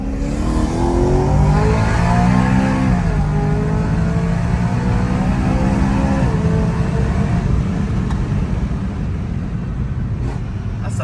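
Lamborghini Gallardo engine roaring loudly at high revs, a sustained rising and falling howl that climbs through the gears, close and continuous with faint voices underneath.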